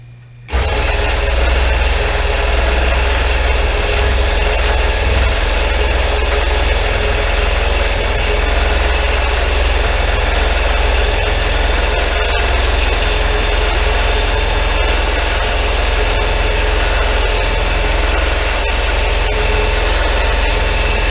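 A quilting machine stitching a quilt in manual mode gives a loud, steady mechanical drone that holds unchanged for about twenty seconds, with faint periodic ticks and no speech.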